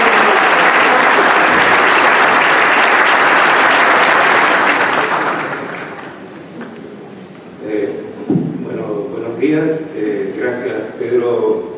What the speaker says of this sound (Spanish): los vamos a recibir con un aplauso así.